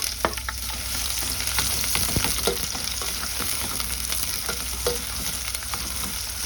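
Garlic frying with onion in a pan as the base for sotanghon soup, a continuous close sizzle with scattered clicks and scrapes of stirring, steady and fairly loud, without talk.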